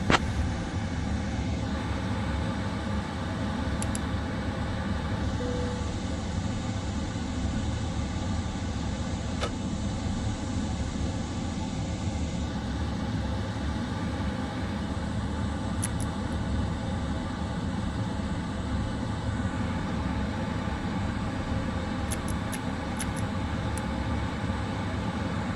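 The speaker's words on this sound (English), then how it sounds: "Air Canada 168, pushback and engine start approved" Air Canada airliner engines starting up in Microsoft Flight Simulator, a steady, loud broadband roar and whine that holds level throughout with no talk.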